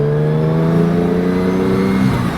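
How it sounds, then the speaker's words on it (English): A loud, close Jaguar E-Type roadster engine with twin overhead cams drones and rises steadily in pitch as it revs, with mechanical whir, then eases off at the end. "the whirring cacophony of mechanical parts, those twin overhead cams"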